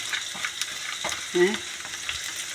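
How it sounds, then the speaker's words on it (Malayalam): Garlic sizzling in hot oil in a pan, a steady close crackle with scattered pops and a short stirring scrape midway; no one talks. "ഈ വെളുത്തുള്ളി നല്ല എണ്ണയിൽ വറക്കുമ്പോണ്ടല്ലോ"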